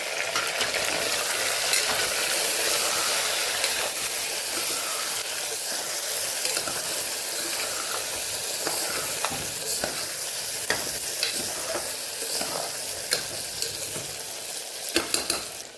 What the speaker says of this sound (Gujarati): તો બટેકાના રીંગણા જે ભરેલા છે એ આપણે અહીંયા ઉમેરી દઈશું.